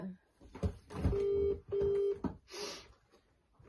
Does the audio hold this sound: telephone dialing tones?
yes